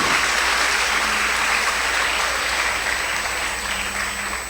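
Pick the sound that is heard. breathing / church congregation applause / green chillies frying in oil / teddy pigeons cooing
church congregation applause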